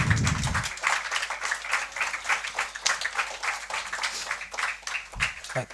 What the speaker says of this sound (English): Ladies and gentlemen, a big round of applause for him.